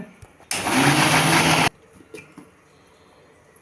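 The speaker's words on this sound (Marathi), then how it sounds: "मिक्सरमध्ये फिरवून घेऊया" A mixer grinder grinding rice flour whirs loudly for about a second in one short burst, then cuts off, leaving quiet kitchen noise.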